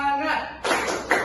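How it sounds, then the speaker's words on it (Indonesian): Children in a classroom clap in short bursts after a spoken lead. Two sharp rounds of claps come close together, with a voice heard first. "Tepuk 1, tepuk 2, tepuk 3."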